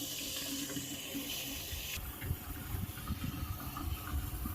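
Water pours steadily into a tank being filled for herbicide spraying, a continuous close splashing fill whose hiss drops slightly partway through while the low gurgle grows busier.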